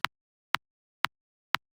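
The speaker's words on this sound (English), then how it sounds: "a very short clicky sound at the beginning of the kick." Kick drum transient alone: four short, sharp clicky hits at an even pace about half a second apart, each a tight snap with almost no tail, loud and dry with silence between.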